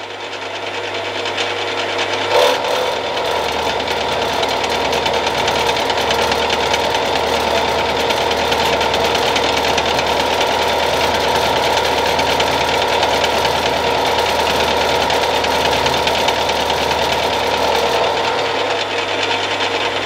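A milling machine taking 0.5 mm passes, a loud, steady mechanical whir and grinding cutting hum that starts after a short motor drone, runs continuously, and ends at the same drone, with no talking.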